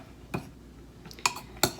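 Strawberries are stirred with lemon juice in a bowl, giving three sharp clinks and scrapes of a utensil against the dish spaced over about two seconds, fairly close and alone in a quiet room.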